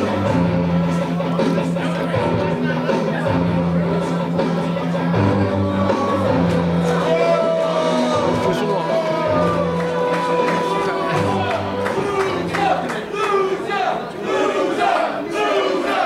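A wrestling crowd at an indoor event chanting loser, a dense roar of many voices shouting in rhythm, loud and continuous throughout, with an announcer talking over it.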